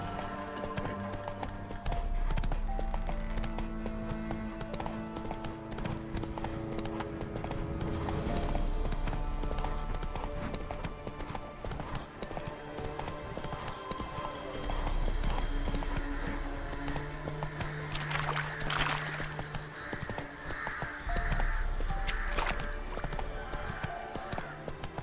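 Hoofbeats of Roach, the horse in The Witcher 3, clip-clop steadily through the whole stretch, up close and fairly loud, set against game music and ambience.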